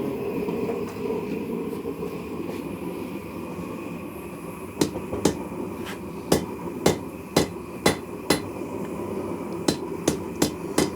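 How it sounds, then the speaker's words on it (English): Sharp metallic hammer strikes ring out as a hot railroad spike is forged into a knife on an anvil, about a dozen evenly spaced blows following a stretch of low background rumble. "So I'm going to hammer it down back toward the spine"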